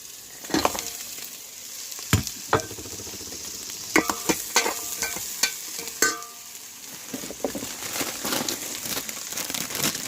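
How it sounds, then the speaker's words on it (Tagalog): Bean sprouts sautéing in a hot pan: a steady sizzle and fry with repeated sharp clanks and scrapes of a spatula stirring, close and fairly loud, no voices. "maggisa naman tayo ng ating lulutuing tawgi"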